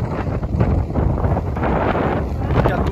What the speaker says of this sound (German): ist aber auch heftig kalt und heftig windig